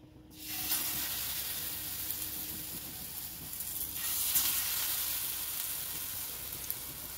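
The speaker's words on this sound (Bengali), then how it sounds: "এই যে ছোলা কচুগুলো আমি এইভাবে সব দিয়ে চুবিয়ে নিয়ে ব্যাটারের মধ্যে চুবিয়ে আমি তেলে ছেড়ে দেবো" Batter-dipped pieces of boiled taro hit hot oil and fry with a steady, close, hissing sizzle that swells a little partway through and then carries on evenly.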